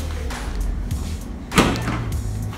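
The trunk of a Citroen C4 Pallas locks and unlocks by key remote, with one sharp, loud, close mechanical clunk midway through, among softer knocks and room noise.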